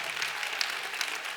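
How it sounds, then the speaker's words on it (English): An audience at a summit plenary session gives itself a round of applause, a brief, bright burst of many hands clapping at even strength throughout. "Give yourself a round of applause."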